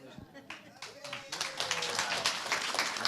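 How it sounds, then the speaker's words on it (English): Audience applause at a conference plenary session begins as a few scattered claps, then swells after a second into dense, steady clapping that continues to the end. "Clap for yourselves"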